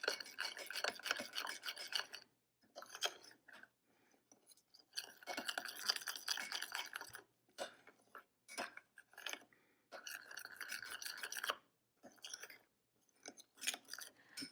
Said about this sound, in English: Next, I'll mix everything together.